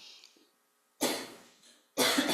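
Two sharp, harsh coughs in quick succession, about a second apart, with a faint hiss before them. They are close and fairly loud, with no speech.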